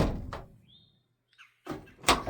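A door on a Chevrolet C30 wrecker truck is swung shut during refitting, giving a sharp, close slam near the end that follows an earlier softer thud and a quiet pause.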